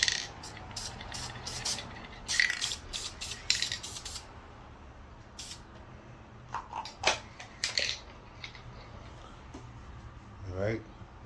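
Plastic dip paint is sprayed as a second coat onto a Dodge Durango roof AC vent piece in short hissing bursts, close by, with quiet pauses between and a voice speaking briefly.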